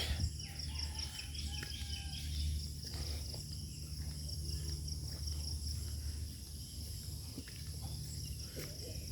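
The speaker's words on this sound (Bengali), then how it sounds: "ভোর ছয়টা বাজে এখনো ঝিঝি পোকা ডাকতেছে" At dawn beside rice fields, crickets trill in a steady, unbroken high chorus, faint and distant, with occasional soft bird chirps.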